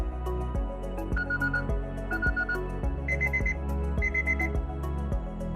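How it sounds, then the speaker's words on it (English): A repeating electronic timer alarm from an IKONN accessibility controller beeps in a steady rhythmic pattern of bright chiming tones, clear and close with no talk. "Like the alarm app, you can dismiss the expired timer with a button press."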